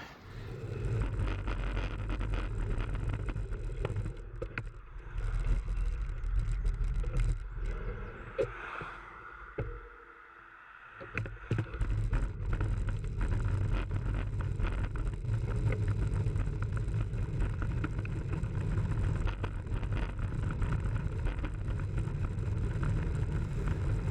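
On the busy A595 road at a crossing, vehicles rumble past with a continuous low roar heard from a bicycle, with wind buffeting the microphone. A brief lull comes midway before the traffic noise returns.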